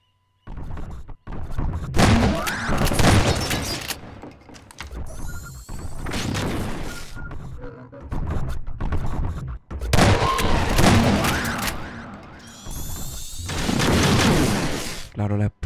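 Explosions and gunfire in the video game Half-Life 2: Episode Two come in loud, dense bursts separated by short gaps, with booming blasts and rapid shots layered over game mechanisms.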